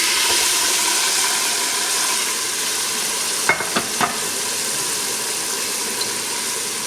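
Soaked rice tipped into a hot pan of fried cumin seeds and stirred, giving a steady broad sizzle with a few brief scraping knocks of the spoon near the middle.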